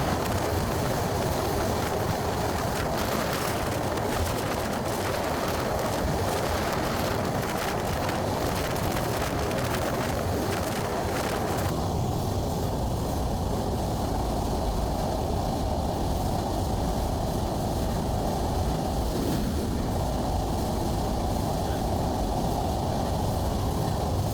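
A train runs across the Padma Bridge, producing a loud continuous rumble and clatter of wheels with wind buffeting the microphone throughout.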